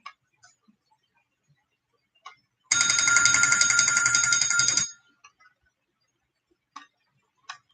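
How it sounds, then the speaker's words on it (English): A loud notification bell rings for just over two seconds at the top of the hour, a bright continuous metallic trill, with faint soft ticks and clicks scattered before and after it. "I love that bell. It's very loud and it's fairly short enough to receive multiple notifications and the banner drop down."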